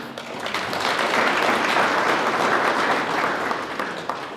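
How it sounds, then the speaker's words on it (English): A packed hall of people applauds during a regional speech in Kavango West, Namibia, giving a thick, roaring, sustained clapping that swells slightly and holds at steady volume for four seconds without talk. "Clap for yourself."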